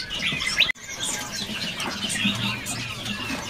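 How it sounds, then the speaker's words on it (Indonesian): A caged pongsai kuda songbird calls in short, high chirps over a steady busy background of other birds and market noise, with one abrupt cut partway through. "Ini ada burung pongsai kuda nih."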